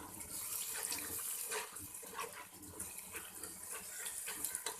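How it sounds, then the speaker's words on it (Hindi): A light splash of water added to spiced minced meat with peas, cooking in a pan with turmeric, red chilli and garam masala, giving a steady close-up watery hiss and gush that runs for several seconds without talk. "हल्का सा पानी का छींटा लगाऊंगी ताकि फ्लेवर इन्हेंस हो जाए।"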